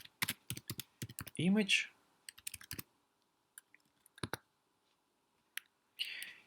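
Someone types on a computer keyboard nearby, a run of crisp, irregular key clicks, with a short spoken word among the keystrokes.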